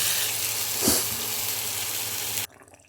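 Water goes into a hot pan where bhola fish is frying in oil with cumin and mustard seeds, bringing a steady loud sizzle and brief hissing splash that cuts off abruptly near the end.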